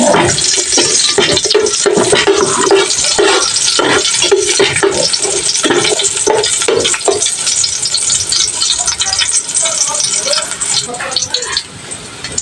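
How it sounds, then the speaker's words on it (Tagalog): Garlic sautés in a hot pan with a loud, dense, continuous sizzle and spatter, stirred now and then, easing slightly toward the end. "magigisa na po tayo ng bawang"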